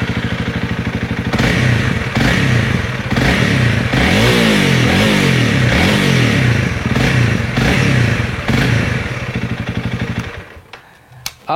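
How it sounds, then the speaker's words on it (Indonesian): Single-cylinder 250cc four-valve engine of a Honda CRF250L motorcycle, loud and close, revved repeatedly in rising and falling bursts over a steady idle thump, then cut off near the end. "Tapi kita dengerin dulu suara mesinnya."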